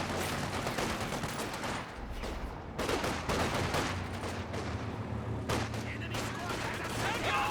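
Sniper rifle fire and surrounding battle gunfire in the WWII strategy game Company of Heroes 2, a dense run of sharp shots and bursts layered over rumbling combat noise throughout.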